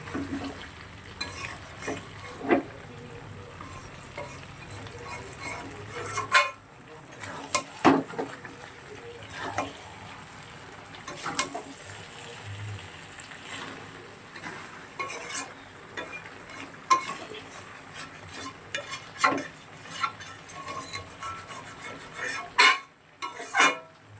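Mutton is stir-fried in a pan with a spatula, giving scattered clinks and scrapes of the metal spatula over a low, soft sizzle, close up and fairly quiet throughout.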